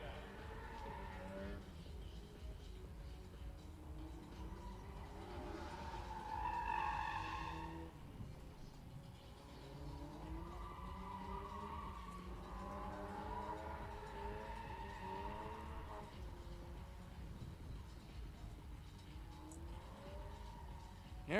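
A Mazda Miata drift car is thrown around at a drift test-and-tune session, its engine rising and falling with bursts of tire squeal, heard at a distance beneath intermittent talking.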